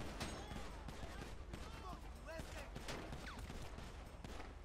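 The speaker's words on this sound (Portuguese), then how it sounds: "eles trocam um tiro com a polícia" Rapid gunfire rattles in GTA 5 as a gang trades shots with police, with dense bursts of shots and ricochets running without a break beneath a voice.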